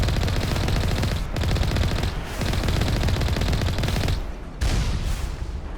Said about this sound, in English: Man, this turret is actually goated.